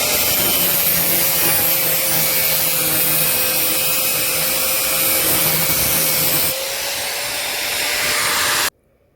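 A power tool cuts a metal piece for an electric TVS 50 moped conversion, a loud steady whining grind running continuously for several seconds before the tone shifts and then stops abruptly.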